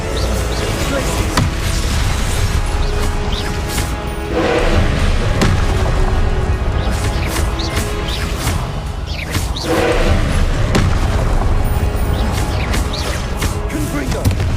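Confringo blasting-spell explosions in the wizarding game Hogwarts Legacy: repeated loud booms and thuds with whooshing casts, several impacts spread across a continuous noisy fight, and a voice calling out spell names at times.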